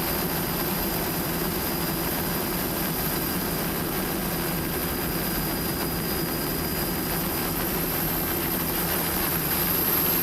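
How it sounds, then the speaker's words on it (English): A Black Hawk helicopter flying as the safety ship over an offshore powerboat race gives a loud, steady turbine roar with a heavy low rotor drone, constant from start to end. "Just an amazing piece of machinery, this Black Hawk helicopter serving as the Angel ship during this event in case there's a problem."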